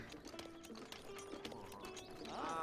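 Horse hooves clip-clop in a Zelda video game, a quiet run of steady galloping footfalls under soft game music, faint and even throughout.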